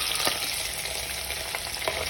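Potato frying with reddish-browned onions in a pan for khichadi gives a steady, close hissing sizzle with a few soft stirring scrapes.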